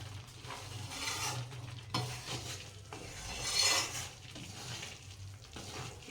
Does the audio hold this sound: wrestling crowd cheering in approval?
no